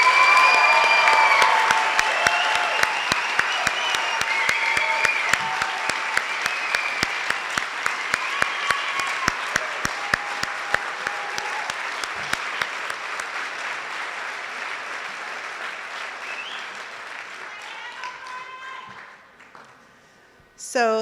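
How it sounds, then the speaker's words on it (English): An audience gives a long round of applause for physical therapy students at a white coat ceremony, loud, dense clapping that gradually thins and fades to near silence before a speaker resumes. "let's do one more round of applause for them"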